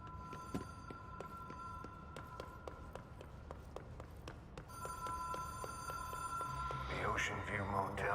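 A hotline telephone in a video game rings in a steady repeating pattern of bright electronic bursts, moderately loud and continuous, with footsteps and ambient game sounds beneath and a rising swirl of effects toward the end.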